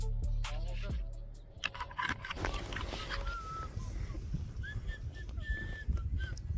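A person whistling during a day of downhill riding at Borovets, short high whistled tones arriving in the second half amid outdoor clatter, wind and scattered voices.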